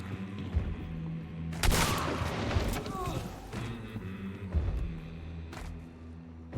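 Gunfire in the game Hunt Showdown: a few sharp booming shots ring out with echoing tails, spaced across the moment, mixed with in-game clatter and a voice talking.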